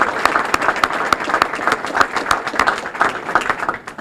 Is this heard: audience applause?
yes